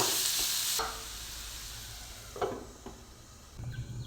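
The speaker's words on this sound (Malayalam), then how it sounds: "ഈ സവാളയുടെ കളറൊന്ന് നന്നായി ഒന്ന് മാറി വരുന്നവരെ മൂപ്പിച്ചെടുക്കാം" Sliced onions sauté with a little salt in a pan, a soft steady sizzle with a few clinks and scrapes of stirring, close and alone.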